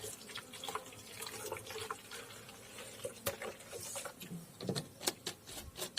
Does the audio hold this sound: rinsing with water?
yes